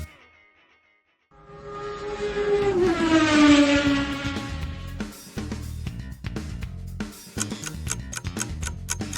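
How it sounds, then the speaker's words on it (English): A sport bike engine revs hard, its whining pitch climbing sharply and loudly before the throttle eases off into a series of rapid, crackling blips and pops, with no talking. "This is the sound of a sport bike."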